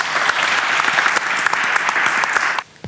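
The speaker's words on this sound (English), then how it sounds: "Give him a round of applause." A crowd at a panel discussion claps enthusiastically in sustained applause that fades out abruptly near the end.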